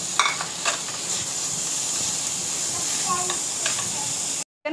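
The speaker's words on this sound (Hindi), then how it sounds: "अब हम इसमें ऐड करेंगे कीमा, चिकन का कीमा है आधा किलो, ये ऐड कर देंगे और इसको अच्छी तरह से हम भूनेंगे।" Half a kilo of minced chicken frying in a pan for mini shawarma, a steady close sizzle with light stirring clicks throughout, ending in a brief cut to silence.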